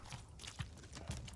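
Roach the horse's hooves clip-clop in quick, fairly regular beats within The Witcher 3, moderately faint, with a voice talking over them.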